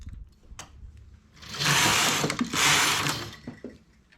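A knitting machine carriage works an eyelet stitch on a leaf-pattern knit, giving two loud, rough mechanical sweeps, each about a second long, with softer clicks and clunks before and after.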